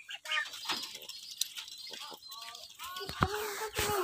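Pigeons in a loft just after feeding, with close wing flaps and scuffling bursts scattered through, under someone talking.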